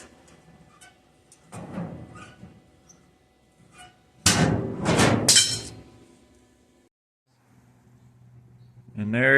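Welded metal utility box doors on a raised garden bed being shut, a burst of loud clanging metallic impacts in the middle with quieter knocks before and after.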